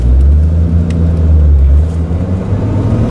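A manual stick-shift car pulls away in first gear from a hill start, its engine a steady, loud low rumble that swells slightly as it accelerates, with no voices.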